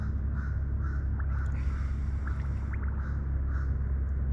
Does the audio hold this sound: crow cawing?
yes